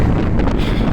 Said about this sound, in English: I did not know it was going to be this windy outside today